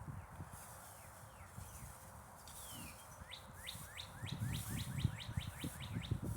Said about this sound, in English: I hear a lot of birds today